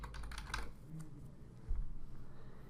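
Light computer keyboard typing as a search term is entered into an ordering site, a short flurry of soft key clicks at the start, faint and close over a low room hum.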